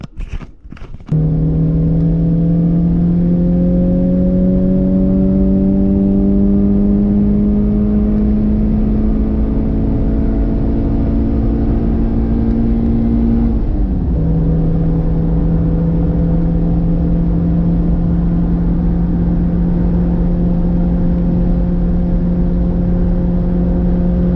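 A 1984 Bertone X1/9 with L-Jetronic fuel injection out on a test drive, its engine droning loud and steady from inside, pitch climbing slowly through a long pull before dropping at a gear change and holding a constant hum.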